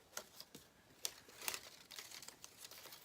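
Paper crinkling as it is folded for an Easter basket craft, a handful of soft, close crackles and rustles in irregular bursts.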